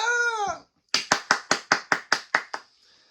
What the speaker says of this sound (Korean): 박수 한번 주십시오. 박수!